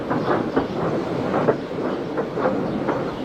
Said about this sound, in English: Thomas pushed the breakdown train alongside.